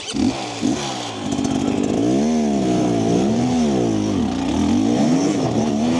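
A 2025 Husqvarna TE300 dirt bike churns through deep ruts, its two-stroke engine loud and close, revving and bogging in a rising-and-falling wail with steady clatter underneath.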